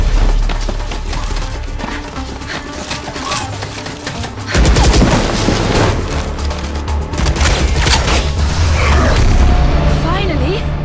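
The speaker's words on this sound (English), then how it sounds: "We're picking up gunfire." Rapid bursts of gunfire crackle through a busy, noisy scene in a VALORANT cinematic trailer, growing louder and denser midway, with voices mixed underneath.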